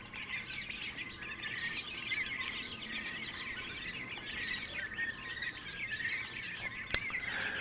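Flock of three-week-old quail kept indoors, chirping in a constant busy chatter of many overlapping small calls, fairly faint and steady throughout, with one sharp click near the end and no talk.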